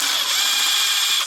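A power tool loosens a bolt on the hybrid converter of a 2002–2009 Toyota Prius 1.5: a short, loud, steady high-pitched whir with no speech.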